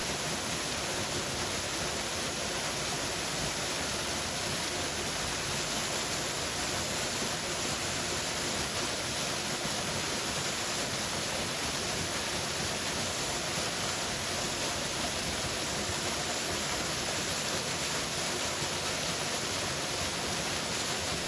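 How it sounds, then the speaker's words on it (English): A rushing waterfall roars as a dense, unbroken wash of white noise, steady and loud throughout with no voices. "Let the rushing water remind you of the constant flow of life."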